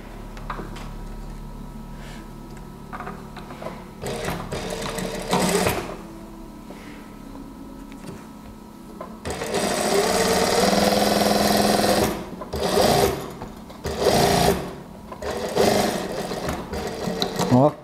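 A sewing machine stitches darts on the bodice of an A-line gamis dress, running in several bursts of steady whirring stitches that stop and restart, the longest near the end.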